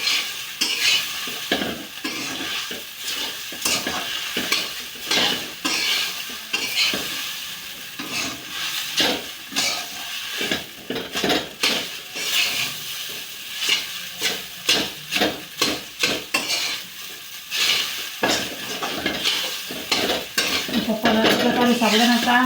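A spoon stirs and scrapes sabudana khichdi with peanut crush frying in a pan, loud clinking and scraping strokes repeating over a steady sizzle, close up.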